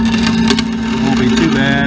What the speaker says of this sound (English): Just gonna cut them by hand over here on my 1943 Dewall bandsaw.